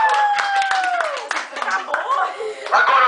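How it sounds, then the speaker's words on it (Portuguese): A round of applause for a couple at a gaucho-style ranch rodeo event, with scattered hand claps heard under a loud announcer's voice over a PA. "Uma salva de palmas pra Igor e Mijoleta"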